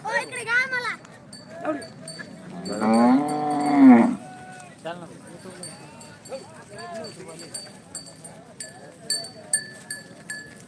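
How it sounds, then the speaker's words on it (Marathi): A Kandhari bull at a bullock market in Lasur Station gives one long, loud moo amid scattered market noise and nearby voices, with other faint animal calls in the background. "ही कंदारी बैल आहे"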